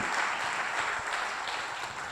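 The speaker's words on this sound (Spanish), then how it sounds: "Ahí va el aplauso para el Señor" Congregation applauding during a church sermon, a fairly faint, continuous wash of clapping heard at a distance throughout the short stretch.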